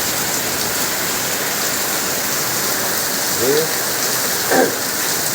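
Heavy monsoon rain in Vallabhipur, Gujarat hisses steadily and loudly with strong wind, a dense wash of sound, with a couple of faint brief voices breaking through near the end.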